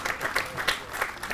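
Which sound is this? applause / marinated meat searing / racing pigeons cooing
applause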